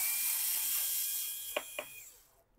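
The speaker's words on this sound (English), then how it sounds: "You have to take out all the screws at the back of the laptop." Screws being removed from the underside of a Lenovo ThinkPad T590 laptop, with a steady whirring hiss and two short, sharp clicks near the end, close up and with no talk.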